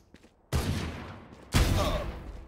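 Two sharp gunshot bursts from the video game Valorant, about a second apart, each hitting hard and then decaying into a ringing tail, close and loud, with faint sounds between them.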